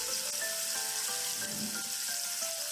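Tomatoes fry in a pan for stuffed brinjal, giving a soft, steady sizzle with faint crackling and a few light stirring sounds, quiet and close.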